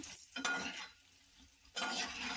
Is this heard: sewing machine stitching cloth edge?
no